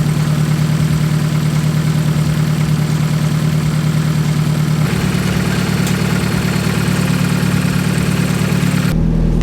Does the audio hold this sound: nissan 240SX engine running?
yes